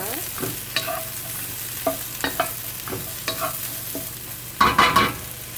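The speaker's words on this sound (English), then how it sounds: "Quick stir." Eggplant and onions being stir-fried in an oiled pan for a basil stir fry: soft sizzling under intermittent scrapes and clacks of a spatula, ending in a louder burst of stirring and frying near the close.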